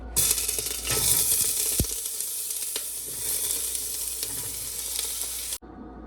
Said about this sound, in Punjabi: ਹੁਣ ਅਸੀਂ ਕੁੱਕਰ ਦੇ ਵਿੱਚ ਬੈਂਗਣ ਪਾ ਦੇਵਾਂਗੇ ਜੀ